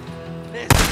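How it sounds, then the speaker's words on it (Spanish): A sudden loud burst of sniper gunfire in the video game Days Gone, a sharp blast at the very end of a short stretch of quiet game ambience. "¡Disparos! Mierda, hay un francotirador."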